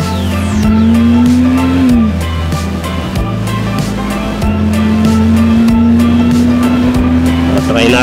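A Bajaj Dominar 400 motorcycle engine on a practice ride, a steady loud drone with the pitch rising and dipping as it shifts and accelerates, under strong wind noise throughout.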